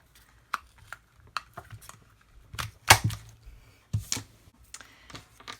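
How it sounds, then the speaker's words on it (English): A starburst flower paper punch clicks and snaps through a paper scrap during card crafting, giving several sharp close-up clacks and taps with one louder punch in the middle, no talking. "I actually just used a starburst flower type punch"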